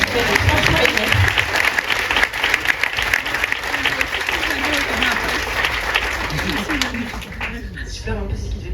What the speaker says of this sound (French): Oui, applaudissons-le parce qu'il est franchement aimé.